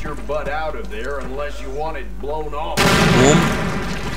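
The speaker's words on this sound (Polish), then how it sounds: "No czekamy aż wybuchnie" A voice talks for a few seconds, then a loud C4 explosion in Call of Duty bursts in abruptly and rumbles on, drowning everything else out.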